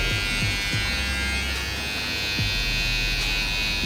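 Electric hair clipper buzzing steadily and close by while its tip trims the hairline around a person's ear, a continuous hum with brief clicks and shifts in pitch as the blade curves along the edge.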